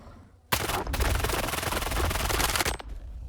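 A Fora-221 assault rifle in STALKER 2 fires a long continuous automatic burst, loud and close, then stops abruptly, leaving a short tail of quieter ambience.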